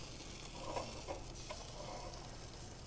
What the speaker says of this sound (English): I love the sizzling sound.